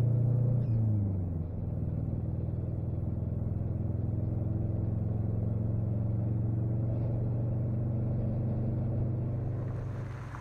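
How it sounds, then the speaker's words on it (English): A Saturn car driving with one cylinder deactivated, running on only three cylinders, gives a steady low engine drone and rumble heard from inside the cabin, with a brief shift in pitch near the start and no talking. "Driving this car with three cylinders is annoying to say the least."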